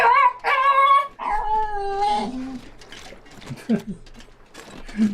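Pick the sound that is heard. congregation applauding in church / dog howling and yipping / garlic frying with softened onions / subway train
dog howling and yipping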